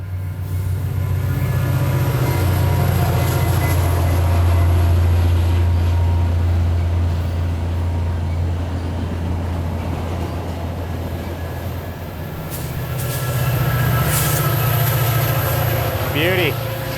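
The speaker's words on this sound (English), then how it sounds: "Oh, it's just a via. Just another via train." A VIA Rail passenger train rumbles past, a loud, steady low roar and rolling rail noise sustained throughout, with a brief swell near the end.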